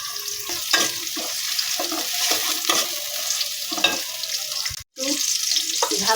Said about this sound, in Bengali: পেঁয়াজটা আমি একটু ভেজে নিই হালকা